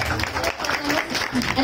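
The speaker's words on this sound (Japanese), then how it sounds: "拍手でお願いします。" Live audience at an idol group's birthday concert clapping for a member, with cheering voices and speech mixed over the claps.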